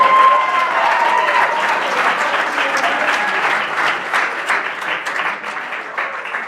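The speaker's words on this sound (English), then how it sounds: "Give them one more round of applause." An audience at a school sonnet recitation event bursts into dense, sustained applause, many hands clapping together loudly and close, gradually thinning toward the end.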